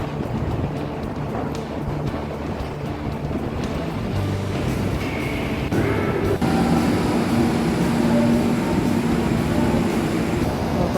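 MRT train pulling into EDSA North station bound for Cubao, a broad rumbling roar that builds and grows louder with a squeal of brakes in the second half, amid platform noise.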